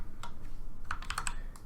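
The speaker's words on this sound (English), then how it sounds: "hit the right arrow key, and it locks in that red access" Computer keyboard keys pressed during 3D roof modeling work, a scattering of crisp, close clicks, sparse at first and then a quicker cluster of several taps, over a steady low room hum with no talking.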